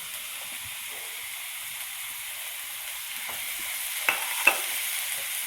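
Onions soften in a pan for prawn biryani, giving a quiet, steady sizzle with a couple of sharp utensil clinks near the end.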